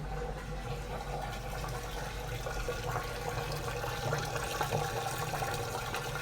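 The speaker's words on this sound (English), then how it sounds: "I'm going to drain it and just listen to the difference here" A Samsung front-load washing machine in test mode pumps water out as it drains, a steady low whirring hum with gurgling water, fairly faint and with no talking.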